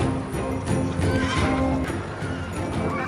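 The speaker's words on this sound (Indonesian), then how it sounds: "Kuda-kuda itu terbang dengan bebas mengitari hayangan." Horses loosed from their stables in a fantasy film scene about Sun Wukong whinny amid a dense, loud soundtrack, with hoof-like clatter running through the whole short passage.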